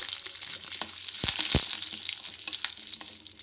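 Curry leaves and dried chillies tempering in hot oil for brinjal pachadi, a loud close crackling sizzle with a couple of sharp pops as the leaves hit the oil.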